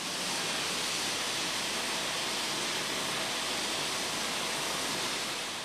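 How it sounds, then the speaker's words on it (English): Hot water jets spray into upside-down bottles in an industrial juice-bottle rinser, a loud, continuous, even hiss of rushing water with no breaks and no voices. "the bottles are then turned upside down and washed with hot water jets, steam sterilized, and dried with sterile air"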